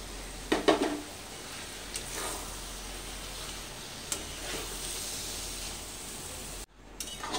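Capsicum, onion and pre-fried paneer are tipped into a pan of sizzling masala, giving a brief clatter and stir near the start, then a steady close frying hiss with occasional scrapes, cutting out abruptly near the end.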